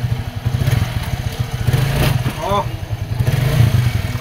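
A Rusi TC-125 motorcycle with newly replaced clutch lining revs up close and loud, its engine pulsing in uneven surges throughout, with a brief voice exclamation partway through.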